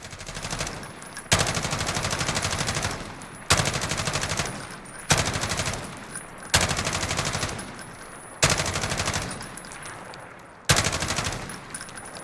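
Bursts of MG36 machine-gun fire in Call of Duty Modern Warfare, about six loud, rapid automatic volleys of a couple of seconds each, separated by brief pauses as they ring out and decay.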